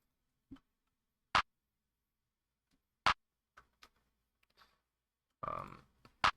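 A sharp, dry clap sample in FL Studio snaps alone a handful of times with uneven gaps, plus a few softer clicks and a brief noisy burst between hits.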